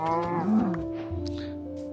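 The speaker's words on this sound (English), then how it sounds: "The cow will help a little." Cow mooing in the Minecraft video game, a drawn-out tonal low bellow lasting about a second, followed by a steady background hum and faint game sounds, with no talking.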